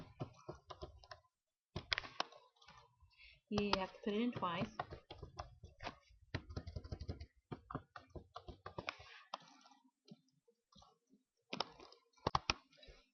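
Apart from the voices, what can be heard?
typing on computer keyboard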